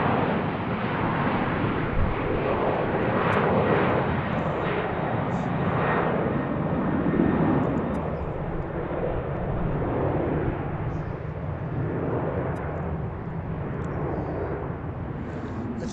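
A Delta airliner takes off at BWI airport, its jet engines roaring loud and sustained, a broad rushing thunder heard from near the runway with wind buffeting the microphone.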